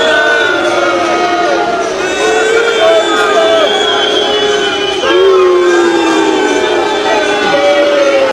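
Large outdoor crowd along a royal procession route as the royal car passes, a steady dense roar of many voices with drawn-out tonal calls rising above it; whether it is booing or cheering is unclear.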